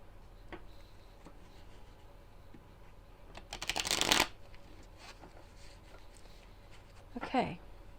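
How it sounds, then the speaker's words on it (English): A tarot card deck, small enough to fit in the hands, is shuffled in two distinct riffling bursts, one longer and louder and a second shorter one, over a quiet room background. "They're easy to shuffle."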